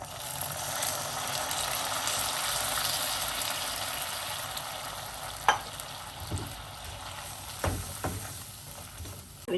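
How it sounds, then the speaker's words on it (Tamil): Jaggery and a little water heat in a kadai to make syrup, giving a steady close sizzling, bubbling hiss throughout with a few soft clinks and stirring knocks near the end. "கடாயில் கொஞ்சமாக தண்ணி சேர்த்துக்கிறங்க."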